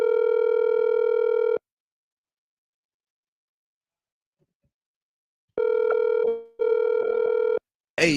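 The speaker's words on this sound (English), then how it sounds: "You're just calling, it ain't ringing." Ringback tone of an outgoing telephone call that goes unanswered, a steady buzzing tone bursting on and off in long intervals with silence between, ending in a brief clatter.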